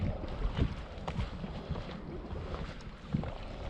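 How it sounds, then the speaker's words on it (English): Gusty wind buffeting the microphone on a lake shore at Lake Oroville while bank fishing in spring, a continuous rough roar with a few stronger gusts. "Wind is ridiculous."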